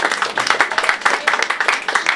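An audience claps steadily for Shayla Cartwright at the AuthentiCity show in Port Lucaya, Grand Bahama, a dense patter of many hands with no pauses.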